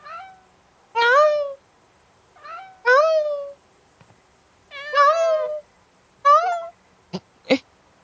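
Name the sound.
cat meowing in the video game Dreadfields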